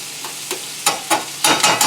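A small-to-medium yellow onion sautés in a hot pan on the stove, with sizzling bursts swelling and fading as it is stirred in quick, uneven pulses.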